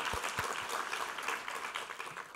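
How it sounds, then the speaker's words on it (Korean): Congregation at a Sunday church service clapping in praise, a soft, fairly distant wash of applause with a few sharper individual claps standing out. "우리 하나님께 감사와 영광의 박수 올려드리겠습니다."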